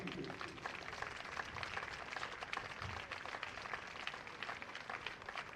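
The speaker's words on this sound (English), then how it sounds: "massive round of applause for Somerset County Cricket Club" A crowd applauds Somerset County Cricket Club at an under-19 club T20 final in Taunton, a faint, dense and steady patter of clapping heard from a distance.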